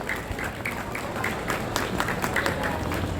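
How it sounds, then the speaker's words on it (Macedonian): An audience claps for the organizers of a Christmas charity bazaar in Kičevo, a steady, dense patter of applause from a crowd that carries on without a break. "Ве замолувам со еден аплауз да ги поздравиме"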